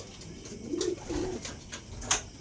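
Racing pigeons from Tarlac coo in soft, low rolling phrases, two close murmurs followed by a brief sharper sound, heard close up with no talking.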